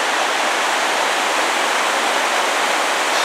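Rushing river water in the Ruahine ranges runs high and fast, a steady, loud, broadband roar that holds constant throughout with no voices.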